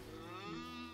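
Cows moo in a Medieval Dynasty farm scene, one low, drawn-out bovine call lasting about a second, heard alone and fairly close.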